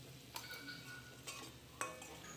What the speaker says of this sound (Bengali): দেখো বন্ধুরা, আমি নুন হলুদ দেওয়ার পর ভালো করে নেড়ে চেড়ে ভেজে নিচ্ছি।